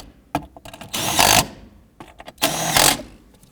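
Ratcheting bursts from a hand tool snugging bolts on the electric power steering motor of a 2006-2011 Chevrolet HHR, two separate runs of close, fast clicking with quiet pauses between.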